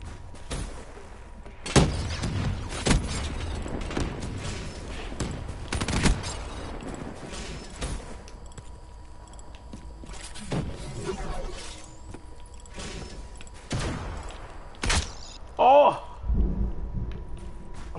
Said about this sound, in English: Shit, flashbang.